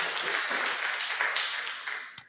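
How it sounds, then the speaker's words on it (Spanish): A church congregation claps together in steady, dense applause that carries evenly throughout and tapers slightly at the end, with a sharp tap near the close. "Entonces démosle un aplauso al Señor."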